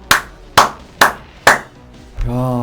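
Four sharp claps at a steady slow pace in the game Marvel Future Fight, each loud and close, followed by a brief sustained tonal chime.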